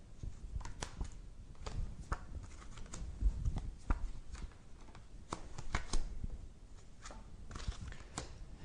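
Tarot cards are shuffled quietly at close range, giving a faint, continuous patter of soft riffling clicks and snaps with no talking.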